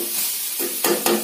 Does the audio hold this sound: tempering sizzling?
yes